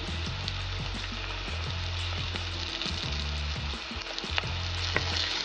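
Kudampuli (Malabar tamarind) and tomato fry in a pan for a Kerala-style karimeen curry, with a steady close sizzle and occasional scraping of a spoon as the mix is stirred throughout.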